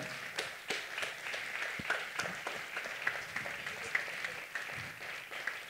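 A church congregation applauds the Lord in a sustained round of clapping, with dense patter and scattered louder claps, and some voices faintly underneath.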